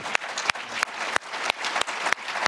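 An audience at a talk on racism, war and dehumanization applauds steadily, a dense wash of clapping with a few sharper claps standing out, fairly close and holding at an even level throughout.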